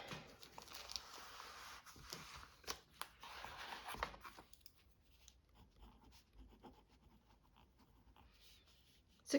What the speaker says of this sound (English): I gotta write that down.